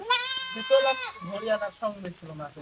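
A young goat kid of the Haryana breed, kept on a goat farm, gives a long, nasal, wavering bleat nearby. Softer, choppier bleats or voices follow.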